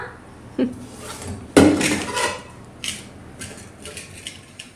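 A pressure cooker lid is opened in a home kitchen: two sharp metallic clanks a second apart, then a short hissing rush and lighter rattles, fairly close.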